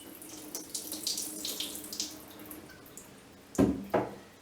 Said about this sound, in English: you'll see that the water is able to drain right through the growing medium